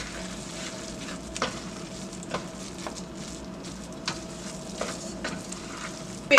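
Seasoned ground meat and ketchup stirred in a frying pan for Barbados meat rolls, a steady close sizzle with soft scraping strokes of a utensil breaking through at intervals.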